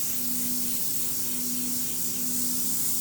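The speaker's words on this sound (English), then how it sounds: "you want to just make sure that you don't spray it in their ears" Spray tan solution hisses from a spray gun onto a client's neck in a steady, continuous, close-up spray with a faint tonal whine and no break.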